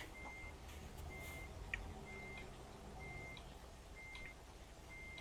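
A truck's reverse alarm in American Truck Simulator beeps in a regular, evenly spaced series of about six tones over a constant low engine rumble, moderately distant, with no talking.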